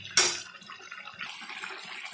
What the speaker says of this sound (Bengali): মাংসটাতে বেশি জল দেবো না, সামান্য একটু জল দেবো